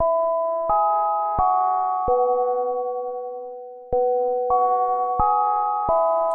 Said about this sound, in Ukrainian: Чуєте? Зараз лунає дзвоник.